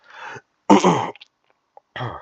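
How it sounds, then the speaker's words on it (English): A few short, harsh coughs from a person with flu, with brief pauses between them, close and fairly loud, with no talking. "so I'm sorry if sometimes I'm coughing"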